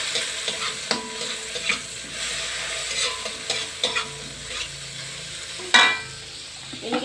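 Bay leaves stirred into food frying in a pan, with continuous sizzling broken by scattered scrapes and clicks of a utensil against the pan, close and moderately loud.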